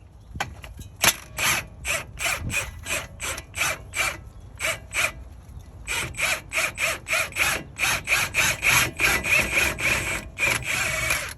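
A hand ratchet turns a bolt during CV axle replacement on a 2007 Lexus ES350, clicking in quick close rhythmic bursts with short pauses between strokes.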